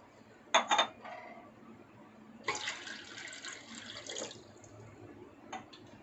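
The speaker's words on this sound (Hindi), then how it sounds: "साथ में मैं 2 कटोरी पानी और ऐड कर दूंगी इसके।" Water poured from a bowl onto kidney beans in a cooking pot for boiling, a short splashing burst near the start and a longer pour mid-clip, close and fairly soft.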